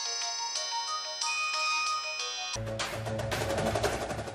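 A phone rings with an incoming call from a manager, a bright electronic melody of repeating tones for about two and a half seconds, then cut off by a louder, noisier burst of other sound.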